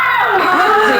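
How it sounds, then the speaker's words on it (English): High-pitched crying and screaming of babies in a favela setting in Call of Duty Modern Warfare 2 Remastered, a loud, close, wavering wail lasting about a second. "There's dogs barking, babies screaming."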